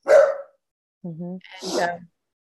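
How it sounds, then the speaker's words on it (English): A dog gives a few short barks in the background between bursts of a person talking at home, each bark brief and close. "You can hear my dog. I know he's always barking on this."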